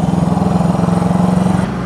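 A small engine runs at a fast idle set too high, a loud, steady, throbbing drone heard close up, with no talking.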